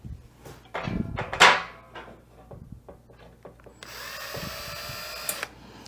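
A power drill drives screws into a Toyota 4Runner rear cargo rack, starting with scattered clicks and knocks from handling parts, then one sustained whining run close by near the end.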